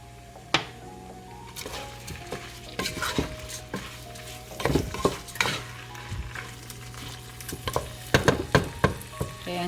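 Arroz caldo being stirred in a pot with ground black pepper, a spoon scraping and clinking against the pot in repeated strokes over a steady low simmer, with louder bursts toward the end.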